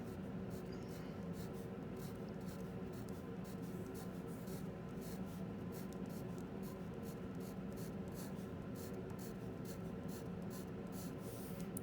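Pen or marker drawing caterpillar legs on paper, a soft, close scratching of repeated short strokes in a quiet room, fairly faint and steady throughout.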